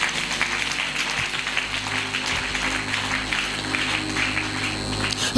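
A church congregation claps continuously for several seconds, a dense, steady patter heard over a faint sustained musical tone.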